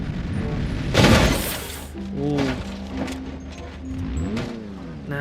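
A Lego car in the Automation game is dropped off a building and crashes with a loud burst of impact noise, followed by engine hum and whirring as it tries to drive away. A voice reacts briefly.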